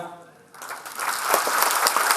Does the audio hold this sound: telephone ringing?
no